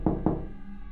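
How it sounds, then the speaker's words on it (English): Two soft, muffled knocks on a basement door in a quiet house at night, evenly spaced and close together, followed by a low room hum. "It sounded like a faint knock."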